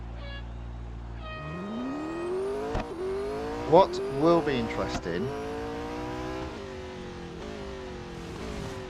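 A race car engine drones in the Real Racing 3 mobile game, climbing in pitch as it accelerates through the gears. Short squeals and revs come partway through, and someone talks over it.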